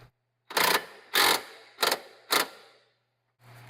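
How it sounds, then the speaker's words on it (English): Torque wrench ratcheting while a Ford Focus lower control arm bolt is tightened: four short, loud broadband bursts of clicking in an irregular rhythm, with a fifth starting at the end, nearby and without speech. "now it's time to torque it down to 159 foot-pounds"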